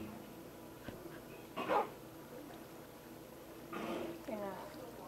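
Dogs in a Minecraft-style video game give a few short barks and yips, one burst early and another near the end, heard at moderate level over a quiet game background.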